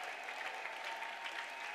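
A congregation at an Easter Sunday service applauds steadily, a continuous, even wash of clapping that sounds somewhat distant and soft.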